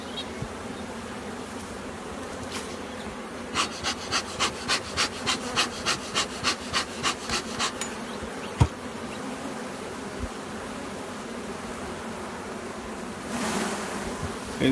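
Honeybees swarm and hum around a hive at an Australian apiary during the setup of a new nucleus colony, a soft steady buzz with a run of rhythmic clicks partway through and no voices.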